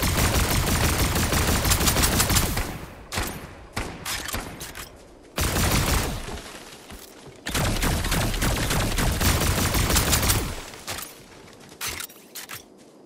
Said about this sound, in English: Oh yeah, we can shoot all the trees down